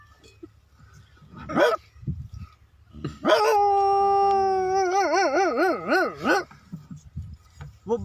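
A man mimics a big dog, giving a short bark followed by a long, wavering howl that rises and warbles close to the mic, with brief yips at the end.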